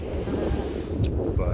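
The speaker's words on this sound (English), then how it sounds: "And the waves. It's very, very calming, very, very relaxing." Wind gusts across the microphone over steady wave wash on the Lake Superior shore near Duluth, a continuous loud rushing roar without pauses.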